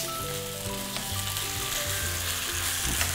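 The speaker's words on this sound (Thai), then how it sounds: "ตั้งกระทะให้ร้อนครับแล้วก็ใส่แกงฮังเลลงไปครับ" Gaeng hung lay curry paste sizzles and fries steadily in a hot pan for northern Thai gaeng ho. The crackle is close and continuous, with faint stirring and no talking.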